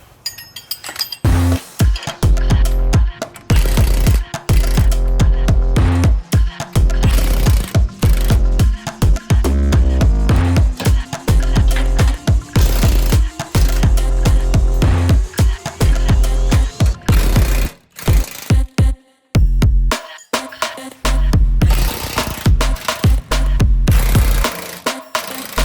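Control arm bolts on a Jeep Gladiator loosened with a 21mm socket and a 24mm wrench, dense rapid ratcheting clicks in loud bursts with metallic clinks and short pauses between bolts.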